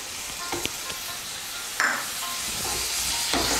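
A little water rinsed from spice bowls goes into spices frying in a pan for a cauliflower fish curry, giving a steady sizzle with a sharper hissing burst partway through and a few light utensil taps.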